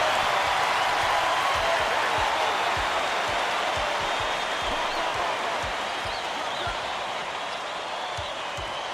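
Steady roar of a video game arena crowd in College Basketball 2K8, loud and continuous throughout, with repeated ball bounces thumping underneath.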